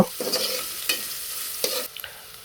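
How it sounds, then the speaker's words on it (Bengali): Bay leaves, cardamom and cinnamon crackle in hot oil for a chicken and bottle gourd curry, a bright close sizzle broken by a few sharp stirring scrapes. "এখানে আছে তেজপাতা, এলাচ, দারচিনি। এগুলো ভালোভাবে একটু ভেজে নিব।"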